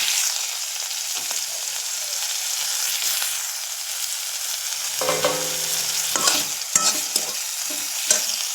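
Crushed green chilli and onion sizzle in hot oil for a fish curry while a spoon stirs and scrapes the pan. The hiss is steady, with a few louder knocks and clatters near the end.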